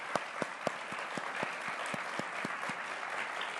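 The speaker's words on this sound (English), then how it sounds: "everyone give them a round of applause" A standing audience applauds award winners at an awards event, steady dense clapping throughout with a few sharp, louder claps standing out near the start.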